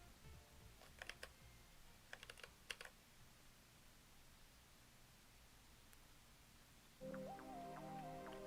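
Computer keys are pressed in a few quick clustered bursts of clicks, close and fairly quiet, followed by a long lull, then a steady tone that takes over near the end.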